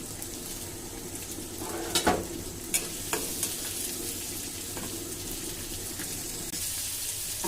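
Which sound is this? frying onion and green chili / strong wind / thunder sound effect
frying onion and green chili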